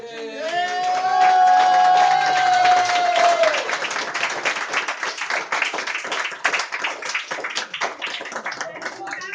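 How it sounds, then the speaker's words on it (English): At a pot luck dinner welcome, a crowd claps for high school students, the applause building under a brief sung or sustained voice at the start and then continuing as scattered, uneven clapping. "please give a round of applause for Kiana, Sierra, and Cameron"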